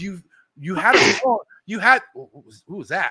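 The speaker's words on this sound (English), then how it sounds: "That was a sneeze." A single sharp sneeze bursts out close by in the middle of a casual conversation, with voices talking before and after it.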